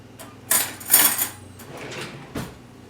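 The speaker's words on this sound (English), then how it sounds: "I'm going to cut my steak." Steak knife and fork clinking against a plate while cutting a cooked steak, a few separate scrapes and taps close by with quiet gaps between them.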